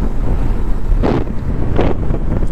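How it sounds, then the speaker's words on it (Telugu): Strong monsoon wind blows near a field of wind turbines in Maharashtra, buffeting the microphone in heavy, continuous rumbling gusts with two sharper bursts. "ఆడ ఫుల్ విండ్ మిల్స్ ఉన్నాయి అండ్ ఫుల్ గాలి కూడా ఉన్నది"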